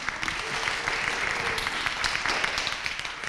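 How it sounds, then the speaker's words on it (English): Brief applause follows a university debate semifinal round, a dense patter of clapping from the room that runs steadily at moderate loudness for a few seconds. "So please give a round of applause for everyone."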